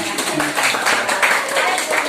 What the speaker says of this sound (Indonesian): Udah lah, kasih tepuk tangan.